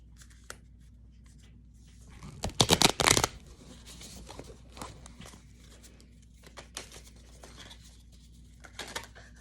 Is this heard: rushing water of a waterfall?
no